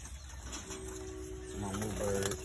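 Domestic pigeons in a loft cooing, soft low repeated coos building toward the end, close by over steady background hum and a faint voice.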